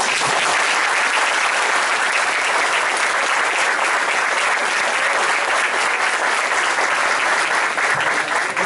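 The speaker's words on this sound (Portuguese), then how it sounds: "Eu queria uma salva de palmas para vocês" Audience at a talk applauding, a dense, loud and sustained round of clapping that stays even for the whole stretch with no voices over it.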